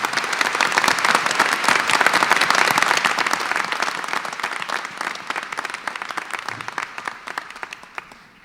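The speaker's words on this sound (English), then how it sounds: "How about a nice round of applause for all their work that went in." A crowd at a school district deliberative session bursts into strong applause that swells early, then thins out and fades toward the end.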